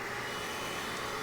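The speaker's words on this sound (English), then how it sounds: "Now to use the vacuum, of course, we'll go ahead and turn it on." Bissell Little Green Machine portable carpet cleaner vacuum switched on, a steady, dense whirring roar with no breaks, loud and close throughout.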